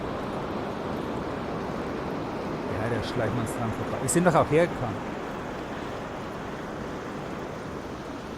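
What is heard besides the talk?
waterfalls in video game Harkon - The BountyHunter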